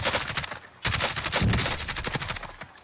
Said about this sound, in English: He's shooting me through a wall, bro.